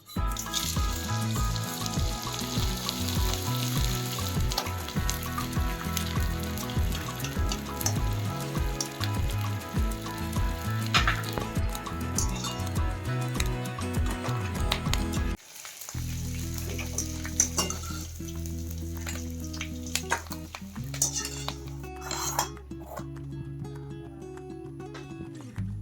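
Edible gum (gond) sizzling and frying in a hot pan for bajra flour sheera, a dense steady crackle that shifts midway to a sparser, bubbling fry with occasional clinks, no voices.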